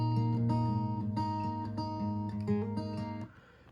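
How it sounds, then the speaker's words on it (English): Fingerpicked acoustic guitar rings out in a gentle, steady flow of overlapping plucked notes, sustained and warm, before cutting off abruptly. "now I've comped the finger-picked acoustic track and it sounds something like this"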